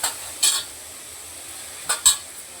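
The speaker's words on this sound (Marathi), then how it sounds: "चांगले परतून घेते आता हे" Onions and tomatoes sautéing in a pan, with a soft sizzle underneath and a few short, sharp scrapes and clinks of the spatula against the metal, spaced irregularly and heard up close without voices.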